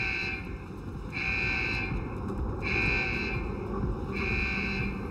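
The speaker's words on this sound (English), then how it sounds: "This alarm started sounding." Deus Ex: The Fall alarm blares in three evenly spaced, long buzzing tones, each lasting about a second, over a constant low rumble of game background, loud and with no talking.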